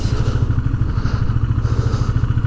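A motorcycle engine pulses steadily and loudly up close while the rider counter-steers, a low throbbing idle-like thrum with wind noise and no speech.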